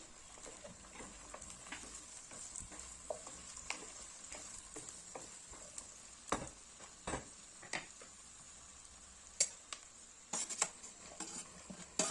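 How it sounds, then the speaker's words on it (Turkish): Green beans being stirred into sautéed onions in a pot, with soft scraping and a few sharp utensil clicks against the pot over a faint steady sizzle, close and fairly quiet, no talking. "Güzel bir şekilde karıştırdım"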